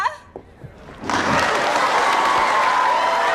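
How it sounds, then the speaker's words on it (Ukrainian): An audience at a beauty contest breaks into loud, sustained applause and cheering after a second of quieter thuds and noise, and the dense clapping holds steady to the end. "Ваші оплески Бафі Гілмор!"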